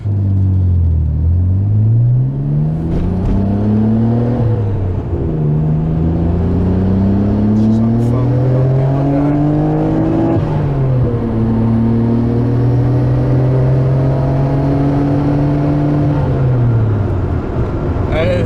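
A 1992 Nissan Skyline GT-R R32 accelerates on the road without full throttle, its engine note climbing through gears with clear rising pitch sweeps and brief dips at shifts, loud and close from inside the car.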